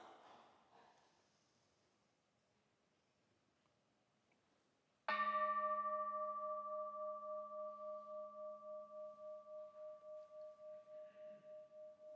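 A single bell is struck at the start of a church service, ringing out with a clear, sustained tone that slowly fades and pulses over several seconds after a quiet stretch with faint voices.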